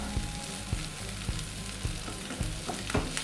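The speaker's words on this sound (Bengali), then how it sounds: "ইয়ালো ক্যাপসিকামটা এর মধ্যে দিয়ে দিলাম। নিয়ে হালকা ফ্রাই করে নিতে হবে" Yellow capsicum frying on medium flame for Schezwan fried rice, a constant close sizzle punctuated by regular sharp knocks of a spatula against the pan, no talking.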